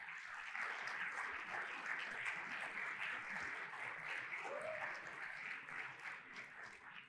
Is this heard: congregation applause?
yes